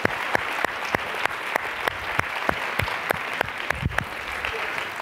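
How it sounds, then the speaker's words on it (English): Conference audience applause at an opening session, a brisk, full round of clapping with rhythmic accented beats as many hands fall into a shared pulse, steady and close throughout. "Just one quick round of applause."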